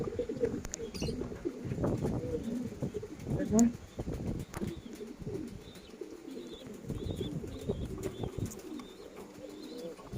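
Foreign pigeons coo in a busy flock close by, low throaty coos and rustling repeating throughout, with occasional wing flutters and someone speaking over them.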